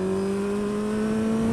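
A Kawasaki Z1000 motorcycle engine holds a steady, droning hum through its exhaust, heard from a rider's helmet with wind noise underneath, no talking.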